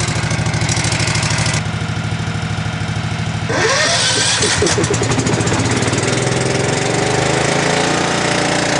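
An air duct cleaning machine's engine idles loudly and continuously nearby, its steady rumbling drone shifting in tone partway through.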